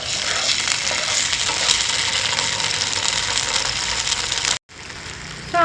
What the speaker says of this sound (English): So I'm going to saute the ginger paste and the chopped garlic for 20 to 30 seconds.